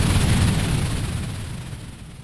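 A synthesized rocket launch effect made with the Arturia Pigments synth, a loud roaring noise burst that starts heavy and slowly fades away, with no talk.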